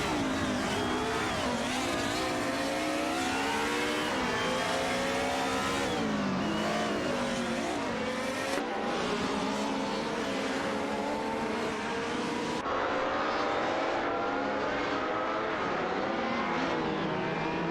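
An Alfa Romeo 155 and an Opel Calibra DTM race in a video game, with loud, continuous, layered engine whines shifting pitch through gear changes as the cars battle closely.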